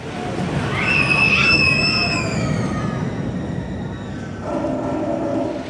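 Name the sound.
Nitro roller coaster ride at Six Flags Great Adventure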